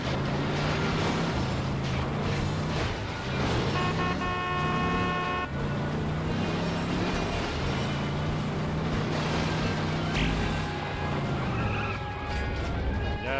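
In a Simpsons driving video game, a car engine drones steadily while a horn honks in several sustained, tonal blasts, with game sounds layered throughout.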